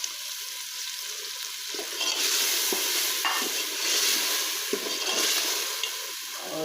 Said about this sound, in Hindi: तो ये लहसुन अदरक का पेस्ट भी हमारा अच्छे से भून चुका है। इसमें हम डाल देते हैं ये जो दही था 1 कप